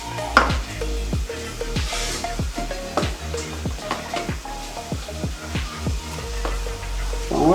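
Okpa batter of Bambara nut flour being mixed with palm oil in a pot, giving repeated wet stirring strokes and scraping knocks in a steady rhythm, close and fairly loud, with no talk.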